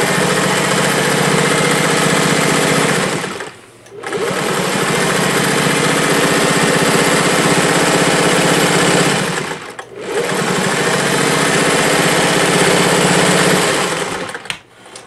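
Singer 401A sewing machine stitching a pin tuck with a straight stitch foot, a loud close steady whirring hum in three long runs broken by two brief pauses, with no talking.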